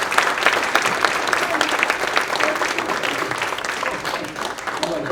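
Audience at an Exeter Area Chamber event breaking into sustained, loud, close applause to welcome New Hampshire Governor Chris Sununu, dense clapping filling the room and easing slightly toward the end.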